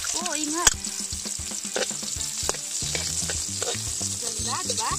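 Garlic and onion sautéing in hot oil for kare kare with oxtail and beef cheek, cooked outdoors; a steady close sizzle with stirring scrapes runs throughout, with faint background voices.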